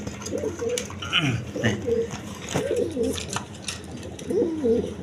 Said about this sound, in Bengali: আপনার এটা হলো মূলত ঝর্ণা শার্টিং কবুতর, কোয়ালিটি সম্পন্ন কবুতর।